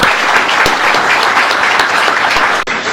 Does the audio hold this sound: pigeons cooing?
no